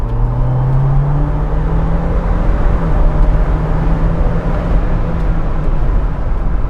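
A 2021 Jeep Wrangler Rubicon 4xE plug-in hybrid at full throttle gives a loud, continuous whirring drone with tones that climb steadily as it gathers speed.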